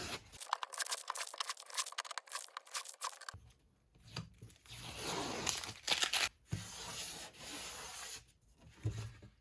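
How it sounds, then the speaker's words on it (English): Masking tape peeled in long tearing strips off an edge-glued guitar top, a dense rasping rip for the first few seconds followed by scattered closer scraping and rubbing as the remaining pieces come away. "Tape off."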